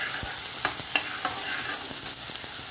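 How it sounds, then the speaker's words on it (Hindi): A tadka of spices with black pepper and red chilli fries for dal, sending out a loud, steady sizzle and crackle with a few light stirring scrapes, and no voices. "ये हमारा दाल बन तड़का लग गया है"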